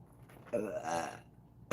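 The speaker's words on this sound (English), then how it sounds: "Excuse the releasing, the burping." A person burps twice, a long drawn-out belch followed by a shorter one a moment later, close and fairly quiet, with no other sound around it.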